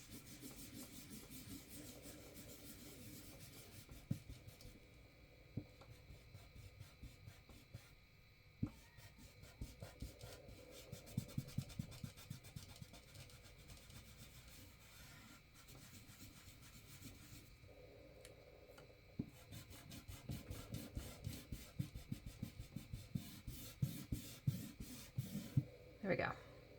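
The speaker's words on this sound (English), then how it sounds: "I'm going to grab my eraser and get rid of all these pencil lines" Pencil lines on paper being rubbed out with an eraser during a small hand-drawn ship artwork: soft, close, repeated scratchy strokes in uneven bursts, quiet throughout, with no talking.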